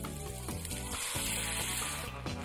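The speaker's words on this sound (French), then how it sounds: "Nos lardons sont bien dorés dans la poêle" Lardons sizzle in a frying pan with ready-made sauce added for quick pasta, a dense steady crackle and hiss alongside low humming tones, with no voices.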